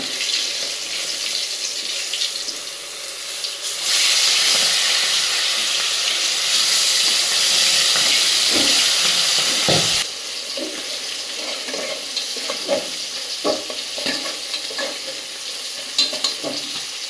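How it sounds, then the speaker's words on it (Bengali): Fish fries loudly in a pan with turmeric and salt, a dense hissing sizzle that swells for several seconds, then gives way to scraping and clattering as the pieces are turned and stirred. "মাছটা আমার ভাজা হয়ে গেছে"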